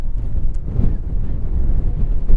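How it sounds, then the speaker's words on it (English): Gusting wind buffets the microphone at an outdoor youth U13-U15 soccer match, a steady low rumble that swells and roars throughout, close and fairly loud. "Again, another wind gust."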